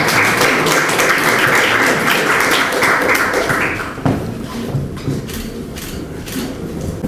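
Audience applause at a literary award ceremony in a National Assembly seminar room, loud dense clapping for about four seconds that then thins to scattered individual claps.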